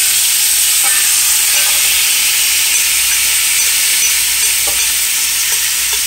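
Curry powder frying in a pot for Jamaican curry chicken, giving a steady loud sizzle and hiss with a few soft stirring scrapes, no talking.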